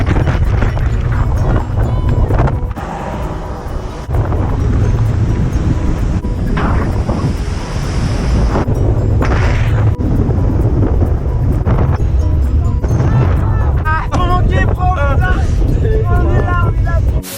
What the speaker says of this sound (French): il y a trop de vent, c'est la tempête sur la route